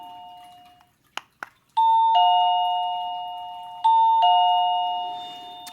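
A wireless doorbell kit with many selectable chimes rings after its button is pressed, giving a clear, loud sustained two-tone ding-dong that rings out and decays, with faint clicks just before.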